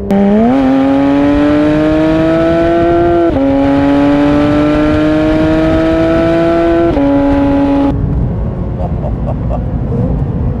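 A naturally aspirated Porsche 991.2 GT3 RS Weissach revs hard on a curvy road, its loud engine climbing through several gears with quick upshifts before the throttle lifts and the sound drops to a burbling coast.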